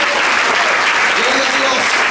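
Steady applause from a church congregation fills the space, continuous and fairly loud throughout with a faint voice mixed in.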